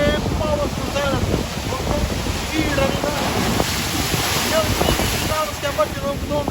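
Powerful sea waves crash and wash onto a shore where houses have been damaged by the sea, a loud continuous roar of surf with heavy wind buffeting the microphone and a voice talking over it.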